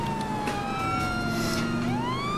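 Police car siren in GTA San Andreas (fan remaster), a continuous wailing tone that sweeps down and back up, loud and steady over game engine and traffic noise, with no talking.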